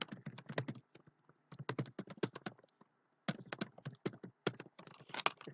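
Rapid bursts of keystrokes on a computer keyboard while a delete query is written, quick clattering clusters separated by short pauses, close and clear with no talking.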